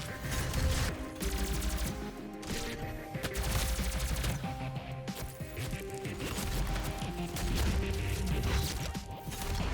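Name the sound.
plasma rifle rapid fire in DOOM beta video game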